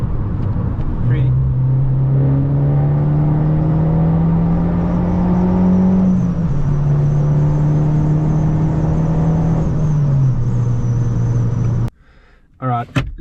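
A five-speed manual car's engine drones steadily, downshifting from fifth through fourth and third gear with pitch shifts and revving, then cutting out abruptly near the end.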